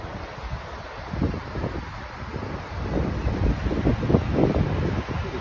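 Wind buffets the microphone on a breezy, desolate coast near John O'Groats during a bike ride, with gusty low roaring that swells and eases in irregular surges, loud and close.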